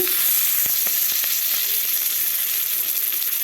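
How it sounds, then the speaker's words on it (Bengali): Chopped onion sizzles loudly in hot oil with cumin, bay leaf and green chili as the base for a fish curry, a close, continuous frying hiss with a few faint taps and no talk. "এখন এটা ভালো করে ভেজে নিব"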